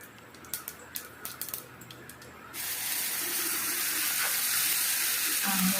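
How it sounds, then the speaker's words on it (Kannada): Ground chutney poured into hot tempering oil with mustard seeds and curry leaves. A few soft clicks come first, then a sudden loud, steady sizzle that carries on close-up to the end. "ರುಬ್ಕೊಂಡಿದ್ದಂತಹ ಚಟ್ನಿ ಇಟ್ಟು ಅದನ್ನು ಒಗ್ಗರಣೆಯಲ್ಲಿ ಹಾಕ್ತಿದ್ದೀನಿ"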